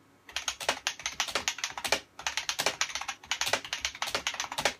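Steady bursts of mechanical keyboard typing, crisp clicky keystrokes in quick runs with brief pauses, close and clear with no talking.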